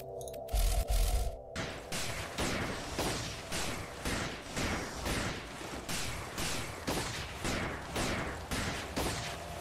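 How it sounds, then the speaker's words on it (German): Rapid bursts of gunfire in the space-colony sim Spacebase DF9, a steady run of sharp repeating shots following a short louder burst at the start, with an electronic hum running underneath. "dann können sie sich ja direkt alle kaputt schießen."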